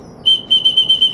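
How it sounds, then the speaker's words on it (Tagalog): A person whistles to call racing pigeons down to the loft: a shrill, steady, high whistle held with a few pulsing repeats, loud and close. "Sipol lang tayo."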